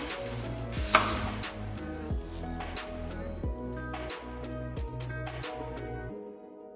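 A knife chops peppers on a board while preparing crusty bread pizzas, a steady series of close, fairly soft cuts with a few sharper taps, rhythmic and unaccompanied by talk.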